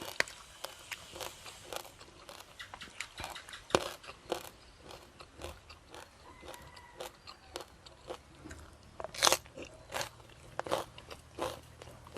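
Crisp, crunchy bites and chewing of a fresh vegetable, served with dry mackerel chili paste, heard close up as irregular snaps and crunches over quiet background, with no speech.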